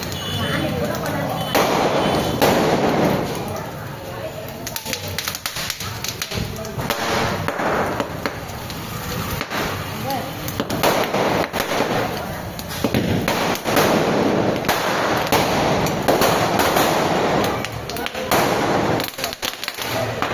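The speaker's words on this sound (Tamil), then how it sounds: "வெடி" Firecrackers explode in rapid, irregular bursts of sharp cracks and thumps outdoors, crackling on and off throughout amid loud voices and crowd noise.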